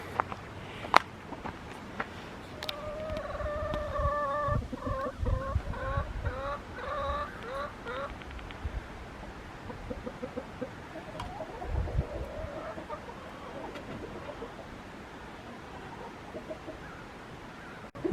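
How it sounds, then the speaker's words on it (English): An old rooster clucks in a series of repeated, stuttering calls, close and fairly clear, with scattered footsteps and outdoor rustling around it near the Great Smoky Mountains in Tennessee; quieter pauses separate the bursts. "It's an old rooster."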